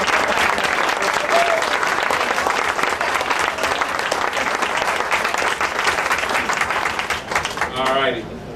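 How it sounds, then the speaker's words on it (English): A crowd at a high school reunion and 50th birthday party bursts into sustained, loud applause, dense clapping throughout that fades near the end, with voices mixed in. "So give them a round of applause."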